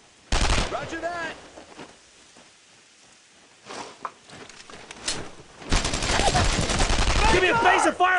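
Bursts of World War II rifle and machine-gun fire in the game Brothers in Arms: Road to Hill 30, loud and close, with rapid volleys at the start and a sustained fusillade at the end, broken by quieter gaps and shouted voices.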